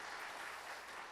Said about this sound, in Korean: 이번에는 우리 마르다 찬양대 한번 격려하는 박수 할까요?